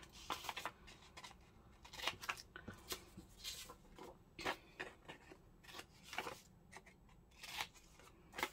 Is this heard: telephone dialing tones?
no